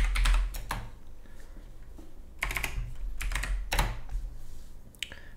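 Bursts of typing on a computer keyboard while writing in a blank Word document, quick clusters of key clicks separated by short pauses, close and fairly quiet with no talking.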